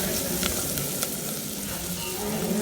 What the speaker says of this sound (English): Now I'm adding celery to it and again sauteing it.